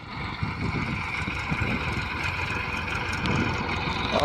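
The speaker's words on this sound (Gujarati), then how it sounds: "ટ્રેક્ટર આવે." A tractor engine idles and rumbles steadily at moderate distance on a rural roadside, low and continuous, growing slightly louder toward the end as it approaches.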